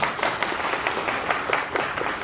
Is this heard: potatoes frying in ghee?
no